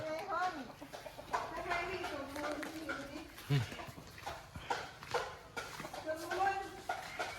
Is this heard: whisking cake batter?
no